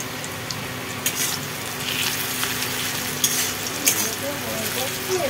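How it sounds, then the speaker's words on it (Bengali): Chunky-cut onions fry in a pan with a steady, close, dense sizzle, broken now and then by the faint clink of stirring. "তো এই দেখো পেঁয়াজগুলো এখন ভাজছি আমি।"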